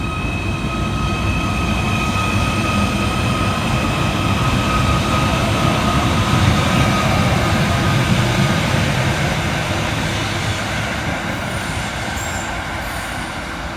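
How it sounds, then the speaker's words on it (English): A Merseyrail Class 777 electric train pulling out of a station, a steady loud rolling rumble with a faint electric whine and brief high squeal, fading slightly toward the end. "Next out to depart is 777-152, with the 1002 Merseyrail electric service from Liverpool Central through to Headbolt Lane"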